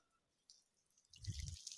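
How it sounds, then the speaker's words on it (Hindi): Water poured from a jug over a person's body from head to feet during a ritual bath. Quiet drips lead into a louder, close splashing gush in the second half. "जग में पानी लेकर, अब आपको क्या करना है, अब सर से लेकर जो है पैर तक पानी बहाना है"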